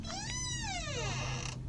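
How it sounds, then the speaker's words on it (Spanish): An old door creaking slowly open in a quiet house at night, a long, rising and falling high-pitched squeal lasting over a second, close and clear, with no talking. "El sonido de su puerta abriéndose"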